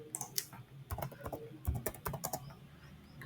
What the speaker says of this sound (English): We'll type